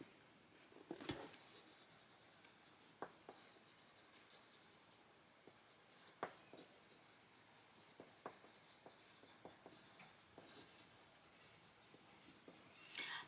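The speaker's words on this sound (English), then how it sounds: "I just need to take a moment and write it down" Pen scratching on paper as a story idea is written by hand, quiet intermittent strokes and taps spread across the stretch, close and alone with no talking.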